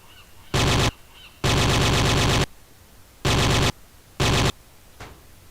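Four bursts of rapid automatic gunfire from a drum-magazine gun in the game Jurassic Park: Trespasser, loud and close, with short and longer volleys separated by quiet gaps.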